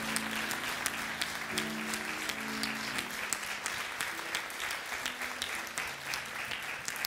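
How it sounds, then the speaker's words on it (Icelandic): Applause from a church audience fills the hall steadily, a dense wash of clapping with faint music or voices underneath throughout. "að gefa þeim gott klapp"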